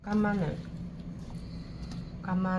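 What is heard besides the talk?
None of the usual background noises is heard.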